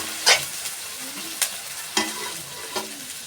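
Ginger, garlic and green chili sautéing in oil for fish korma, with a steady low sizzle broken by four sharp spoon-against-pan clatters spaced about a second apart.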